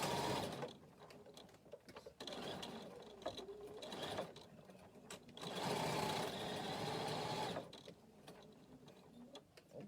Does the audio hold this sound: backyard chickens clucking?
no